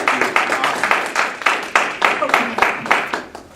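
Audience applause at a workshop, sparse individual claps in uneven bursts, a small group clapping nearby with a slightly rhythmic pattern that fades toward the end.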